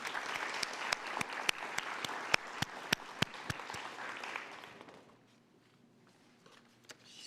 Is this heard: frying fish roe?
no